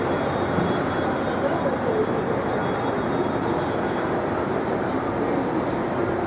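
A small kiddie train ride at the Méga Parc indoor amusement park in Galeries de la Capitale, Quebec, rolls past as a steady, dense rumble mixed with the broad wash of a busy hall, continuous and fairly loud throughout.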